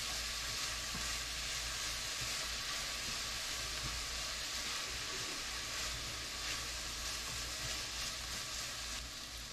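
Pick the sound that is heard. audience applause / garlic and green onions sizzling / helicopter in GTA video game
garlic and green onions sizzling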